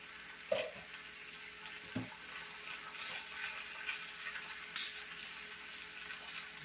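Eggs cook in a skillet for a frittata with a faint, steady sizzle and a few soft clicks and taps of utensils, all quiet and close.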